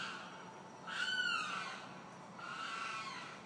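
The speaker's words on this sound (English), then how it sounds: "Satan's bird is back." A bird calling outside gives two drawn-out, harsh cries, the first louder and the second fainter, heard at a distance against a quiet background hiss.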